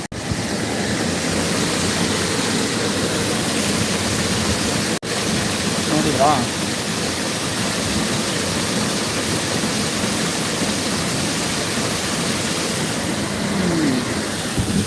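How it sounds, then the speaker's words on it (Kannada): A village waterfall pours steadily, a continuous broadband rush of falling water that stays loud for the whole stretch, with someone talking briefly over it. "ನೋಡಿ ನೀರು ಎಷ್ಟು ಚೆನ್ನಾಗಿ ಬೀಳ್ತಾ ಇದೆ"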